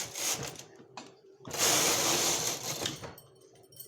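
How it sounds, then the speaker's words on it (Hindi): A punch card knitting machine's carriage slides across the needle bed with a rattling, ratcheting mechanical sweep, one main pass after a few shorter clicks, close and fairly loud. "कैरेज आपको चल जाता है तो चला लीजिए"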